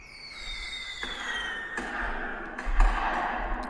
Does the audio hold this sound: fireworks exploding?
yes